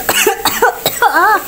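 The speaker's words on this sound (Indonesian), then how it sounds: "ini batuk wae tadi." A person coughs three times in quick succession, loud and close.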